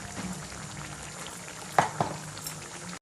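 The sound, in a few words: curry boiling in a pot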